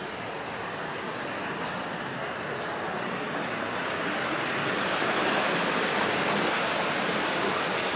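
Water running along a seaside promenade road in Katsiveli, Crimea after a storm, a steady rushing wash that grows slightly louder toward the end.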